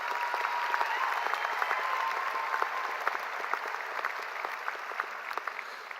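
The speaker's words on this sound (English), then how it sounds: "Round of applause, please, ladies and gentlemen." Steady applause from a graduation ceremony audience fills the hall with dense, continuous clapping, fairly distant and even in level, with no talk over it.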